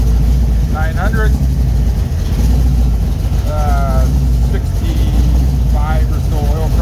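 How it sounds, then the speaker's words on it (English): A Mopar V8 with ported J heads and a Voodoo hydraulic flat tappet cam idling at about 900 rpm, a steady low rumble held throughout, with brief squeaky chirps over it. "Idling at 900"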